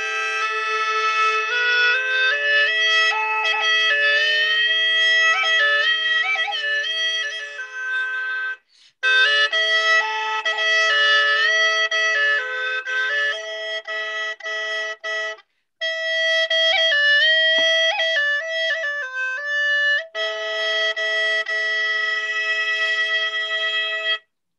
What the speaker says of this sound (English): this is a gourd instrument that sounds like this